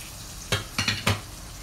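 Butter melting and frying in a pan with wheat flour added, for macaroni and cheese: three short clattering stir or pan bursts over a faint steady sizzle, close and fairly quiet.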